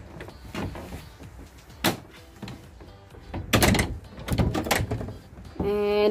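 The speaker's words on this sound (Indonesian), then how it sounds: "kunci pintu dulu." A house door being shut and locked, with scattered clicks, a few sharp rattling bangs of the latch and handle, and a mechanical whirr at the end.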